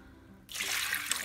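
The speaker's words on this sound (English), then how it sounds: "pour some more water" Water pours suddenly and steadily over tumbled fire agate, jasper and obsidian stones, a close, bright rushing splash that keeps going after a quiet start.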